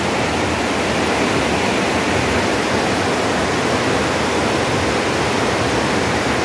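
Rushing flood water at a flood control site in Mindanao, a loud, constant broadband roar of churning water filling the whole clip, with no talking heard.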